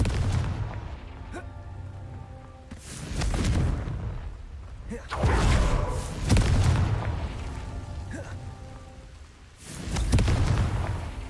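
Confringo fire-spell blasts in the Hogwarts Legacy video game, several heavy booming explosions a few seconds apart, each swelling and then fading under a backdrop of game sound effects.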